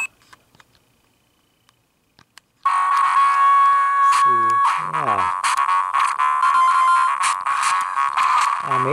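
Aladdin game music and sound effects on an AtGames Sega Genesis Ultimate Portable Game Player, starting abruptly after near silence with a bright chiptune melody and bursts of swooshing effects, loud and steady.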